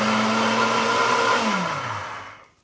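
A kitchen blender whirs through nacho ingredients, a loud steady motor whine that holds, then drops in pitch as it spins down and cuts off into quiet.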